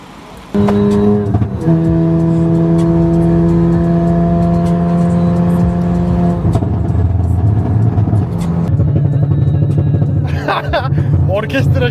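A car engine revs hard and accelerates on an İzmir street, a loud close drone that climbs and holds before shifting down, with people talking and shouting over it.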